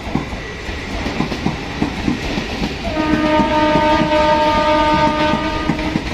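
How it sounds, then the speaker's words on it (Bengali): A train pulls into Murshidabad station on platform 2, moving from the Kasimbazar side toward Lalgola. Its wheels clatter rhythmically, then a loud, sustained horn sounds close by. "আমরা এখন মুর্শিদাবাদ স্টেশনে দেখতে পাচ্ছেন 2 নম্বরে ট্রেন ঢুকছে।"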